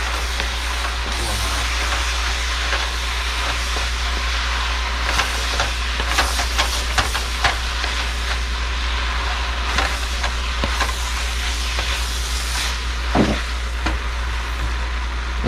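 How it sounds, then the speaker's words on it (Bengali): Noodles hitting a hot pan for teriyaki chicken chow mein, a steady broad sizzle over a low hum, with scattered sharper crackles and stirring clatters throughout, close and moderately loud, no talking. "দেখেন আমি নুডলসটা দিয়ে দিচ্ছি।"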